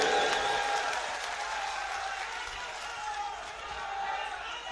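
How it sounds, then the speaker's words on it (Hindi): Crowd at a political rally in Raghogarh breaking into sustained applause, a steady wash of clapping and cheering that carries through, heard from within a large outdoor audience. "ताली बजाओ जोर से हिरेंद्र सिंह के लिए।"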